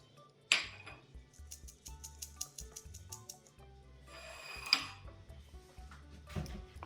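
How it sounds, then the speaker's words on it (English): Baking powder is sieved for a vanilla cake, with a metal sieve rattling in quick rhythmic bursts against a bowl and a few sharper clinks of metal and utensils, all fairly faint and close. "We're going to take our baking powder and sieve it."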